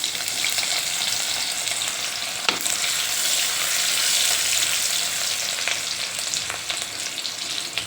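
Chilies fry in very hot oil in a kadhai with a loud, dense, continuous sizzle. A few light clinks and scrapes of a utensil come through, and no one speaks.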